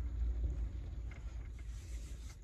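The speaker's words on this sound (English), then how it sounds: "It's extremely windy outside," Strong wind outside a van: low, rumbling gusts buffet the surroundings, a steady roar with some rattling, no voices.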